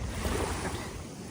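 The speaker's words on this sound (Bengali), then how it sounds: "এটা হচ্ছে প্রশান্ত মহাসাগর" A broad, rushing wash of Pacific Ocean surf rolls continuously onto Odaiba Beach, Tokyo, with wind buffeting the microphone; no one speaks.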